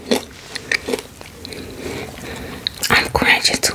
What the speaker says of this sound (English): I'm crunching too loud.